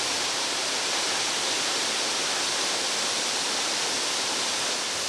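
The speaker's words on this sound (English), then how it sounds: "There's many places like this magnificent waterfall" A magnificent waterfall in Belize pours in a dense, unbroken rush of white water, loud and steady throughout with no voices.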